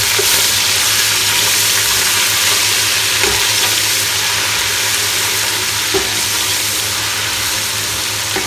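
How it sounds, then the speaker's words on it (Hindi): Garlic ginger paste fries loudly with golden brown onions for chana pulao, a strong continuous sizzle with occasional stirring knocks, close and unbroken. "अब हम इसमें लहसुन अदरक का पेस्ट डालेंगे और इसको अच्छी तरह भूनेंगे"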